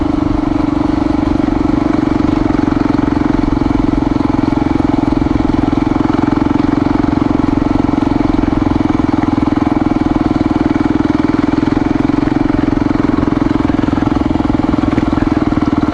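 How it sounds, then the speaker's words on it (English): An XR motorcycle engine idles and putters along a quiet back road, a steady low drone with light mechanical clatter, close and constant throughout. "I'm basically just idling along this road."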